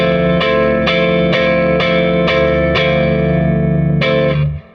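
Chords on a Fender Japan Jazzmaster through an overdriven Fender Princeton Reverb Reissue tube amp ring out in a steady strumming pattern, gritty, loud and close, ending with a fading sustain.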